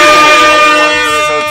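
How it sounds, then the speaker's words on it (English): A loud, harmonically rich air horn sound effect added over Donkey Kong Country gameplay, blaring continuously for a second and a half and tapering slightly at the end. "I want 13 air horns on the screen right now."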